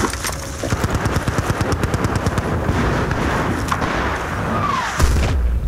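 Rapid automatic gunfire rattles in Battlefield: Bad Company 2, a dense burst of close shots in quick rhythm followed by continued distant firing and a heavier blast near the end.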